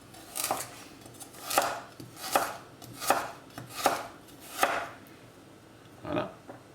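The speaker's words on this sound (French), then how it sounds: "vous allez les couper en petits bâtonnets" A knife chops peeled carrots into julienne sticks on a board, seven crisp, evenly spaced cuts sounding close and clear over a quiet room, with no voices.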